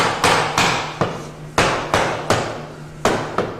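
Flooring boards are tapped into place over a radiant heat floor, about nine sharp, close knocks in an irregular rhythm, each decaying quickly before the next.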